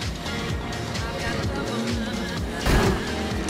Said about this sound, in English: This exhaust note's amazing.